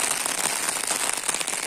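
Rain pattering on an umbrella held overhead, with dense, close, rapid taps in a continuous irregular rhythm during a downpour in the woods, and no talking.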